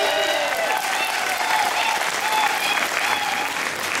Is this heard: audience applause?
yes